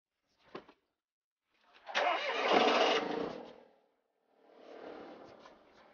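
A small Mercedes Smart car starts up: a brief click, then the starter cranks and the engine catches with a loud burst that settles into idle, followed by a quieter second rev, near and clear with no talk.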